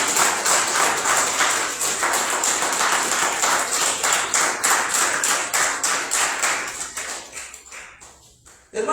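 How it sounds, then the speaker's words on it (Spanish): A church congregation breaks into loud, dense applause, many hands clapping rapidly and continuously for several seconds before tapering off abruptly. "aplauso al Señor."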